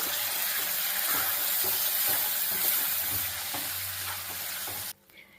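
Curry leaves drop into hot oil for a tempering and are stirred, giving a loud, continuous close sizzle with scraping stir strokes throughout before it cuts off abruptly near the end.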